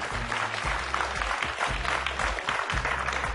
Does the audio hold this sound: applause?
yes